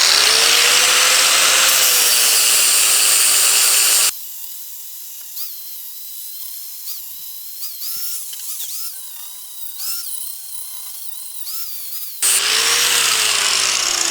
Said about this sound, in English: We're going to go ahead and grind a good portion of this.